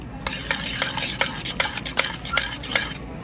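Cacio e pepe pasta being mixed with olive oil in a pan, a steady run of wet, sticky stirring with repeated sharp clicks of a utensil against the pan, close and fairly loud with no talking.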